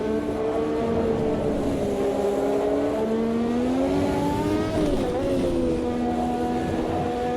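A car engine drones loudly in a racing video game, its pitch rising and falling as the driver works through the gears, with a clear dip and recovery partway through; steady and close, with no one talking.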